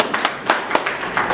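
Scattered hand claps from a small group at a civil wedding ceremony, several sparse irregular claps over a short stretch, moderately close, with no voices over them.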